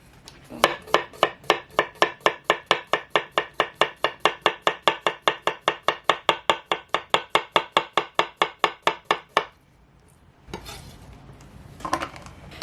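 A knife chops an onion on a cutting board in a fast, steady run of about three dozen sharp, even strokes, close and loud, then stops, followed by a few quieter handling knocks.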